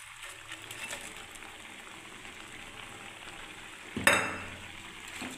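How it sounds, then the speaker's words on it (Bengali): Fried dumplings for lau shukto, a bottle-gourd dish, drop into simmering milk in a pan: a low, steady bubbling hiss runs throughout, broken near the end by one brief, louder splash. "এবারে আমি এই বড়াগুলোকেও দিয়ে দিচ্ছি"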